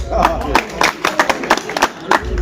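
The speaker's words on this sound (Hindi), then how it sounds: "अनेक तालियां तो बनती हैं इसकी।" Audience at a community review meeting of a nomadic society in Sonipat, Haryana, clapping in scattered, uneven bursts, close and moderately loud, mixed with crowd murmur and voices.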